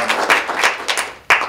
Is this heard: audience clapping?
yes